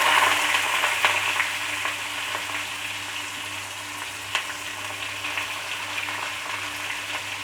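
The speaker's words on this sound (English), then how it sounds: "now I am putting the onion," Onion frying in a pan for tomato rice gives a steady, loud sizzle throughout, with occasional faint stirring clicks and no voices.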